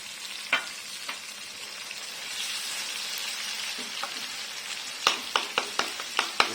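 Water hitting a hot non-stick pan, giving a steady frying sizzle followed by a run of sharp spitting crackles near the end, close and alone with no talk.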